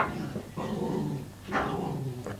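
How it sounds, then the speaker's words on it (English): Dogs growl and snarl in a scuffle, with low rumbling growls and a couple of sharper yelping bursts, moderately close and with no talking over them. "Dogs are killing each other, as usual."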